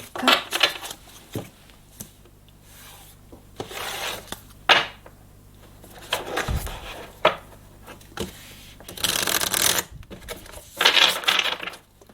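Tarot cards are shuffled and drawn by hand, giving scattered soft slaps, rubs and riffling bursts with quiet pauses between them. One longer riffle comes near the end. Close and fairly quiet, with no talk.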